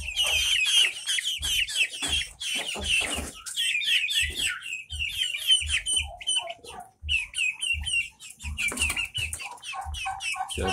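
Young white Pelung chickens, about a month old, cluck and peep continuously at close range, with busy overlapping high chirps and soft low clucks.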